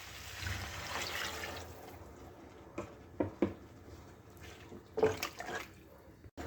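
Water pours into a pan of fried potatoes and mung dal for cooking, a gushing stream at first followed by lighter splashes and a few distinct pours, close and alone.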